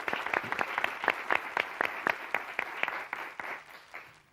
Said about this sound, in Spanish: aplauso al señor Cazorla